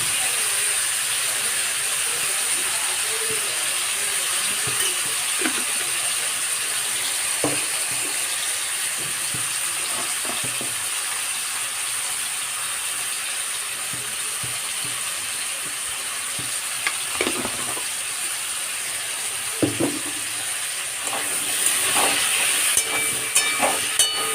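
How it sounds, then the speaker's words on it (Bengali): Diced potatoes seasoned with salt and turmeric fry in hot oil, giving a steady, fairly loud sizzling hiss with occasional clicks and scrapes of stirring, growing busier toward the end. "এই আলুগুলো ভেজে নেব"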